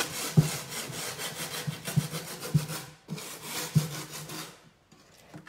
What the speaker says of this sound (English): I take a 100 grit piece of sandpaper and I'm going to sand